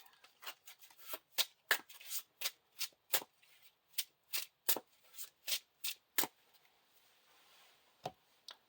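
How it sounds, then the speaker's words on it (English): Playing cards for the Lord of the Rings card game are shuffled into a deck in a quick run of about twenty crisp riffling snaps, evenly paced, then a pause and one last snap, close and quiet. "shuffled into the deck."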